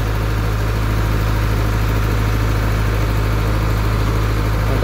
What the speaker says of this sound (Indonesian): Gensetnya open rekondisi tuh 40 kVA.